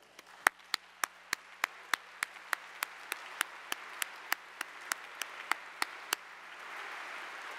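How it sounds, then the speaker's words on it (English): Audience applause at a high school science bowl championship, starting as sharp, evenly spaced rhythmic claps, about nineteen in a row, then broadening into a soft, rising wash of general clapping at the end. "applause"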